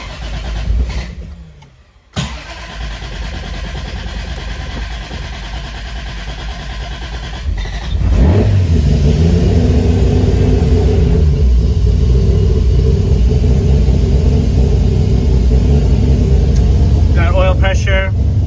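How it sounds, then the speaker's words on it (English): A car engine with a 2JZ build cranks, catches and roars to life, then keeps running at a loud, steady rumble close by. "I want to show you guys a video of the car running"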